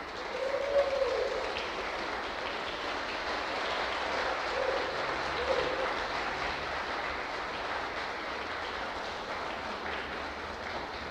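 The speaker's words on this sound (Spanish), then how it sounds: "¿Por qué no les damos un aplauso a las damas?" A church congregation applauds the ladies, a soft, fairly distant rustle of many hands clapping that continues evenly for around eleven seconds with no voices on top.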